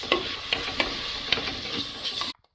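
Chili, turmeric and coriander powders are sautéed in a pan for a Kerala-style raw mango fish curry: a constant close sizzle with rhythmic scrapes of a spoon, ending abruptly.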